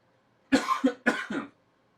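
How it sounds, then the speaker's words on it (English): A close, sharp cough in two quick double bursts, then silence. "Apologies for the cough."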